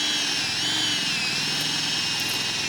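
Close drill grinding continuously through hard wood for a few seconds, a loud steady whine with slight wavering in pitch as the bit works.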